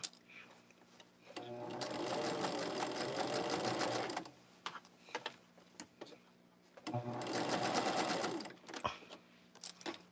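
Sewing machine back stitching on quilt fabric, two bursts of fast rhythmic needle chatter a few seconds apart, close and clear, with soft handling clicks in between.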